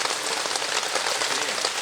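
Heavy rain coming down outdoors, a dense, even hiss of drops hitting surfaces, steady and close with no voices.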